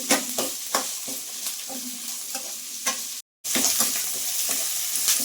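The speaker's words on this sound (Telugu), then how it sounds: "ఇప్పుడు మనం ఆనియన్, కరివేపాకు వేసేసుకొని దీన్ని కూడా కొద్దిగా వేసుకున్నాం." Onions and curry leaves sizzle in a hot pan while a utensil stirs and scrapes in short strokes, a close, steady frying crackle with a brief cut to silence partway through.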